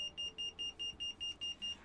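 Blood pressure monitor in the Rivalhearts dating sim game beeping in a steady run of about eight short, high electronic tones, evenly spaced and fairly quiet, with no voices.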